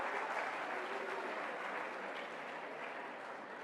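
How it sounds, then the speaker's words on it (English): Applause for students at a medical undergraduate research conference: a continuous, even patter of many hands clapping in a hall, moderately distant and fairly soft. "Applause for students."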